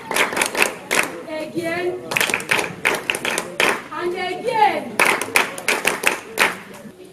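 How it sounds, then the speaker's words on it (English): Children clapping their hands in a classroom or church setting, several bursts of brisk clapping alternating with an adult voice speaking between them. "Clap for yourselves."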